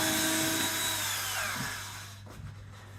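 A power drill backs screws out of the temporary stop on a broken sash window, a steady close whine that shifts pitch and then tapers off, ending in a few soft knocks.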